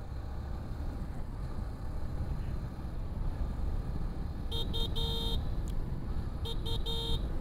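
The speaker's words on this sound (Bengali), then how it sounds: "হর্নও ঠিকঠাক, মোটামুটি লাউড হর্ন আছে।" Horn of a Hero Super Splendor Xtec motorcycle sounding in several short, fairly loud honks late in the clip, two bursts then a pair, over steady engine and road noise, with no talk.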